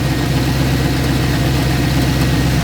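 A Chevrolet C10 truck engine idles in freezing cold, a loud, steady low rumble that holds evenly throughout.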